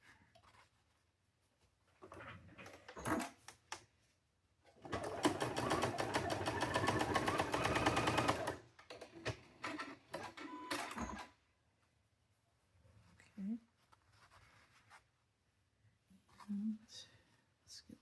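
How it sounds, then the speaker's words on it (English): A sewing machine joins triangular quilt pieces in one steady burst of stitching lasting a few seconds, framed by quieter handling noises and scattered talk before and after. "We're going to sew these together."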